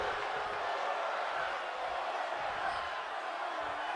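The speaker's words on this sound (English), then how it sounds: "The crowd wanting one more." A wrestling crowd fills an arena with a steady, dense roar of cheering that holds at an even level throughout, loud and continuous, with no single voice standing out.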